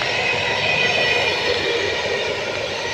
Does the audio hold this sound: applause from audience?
no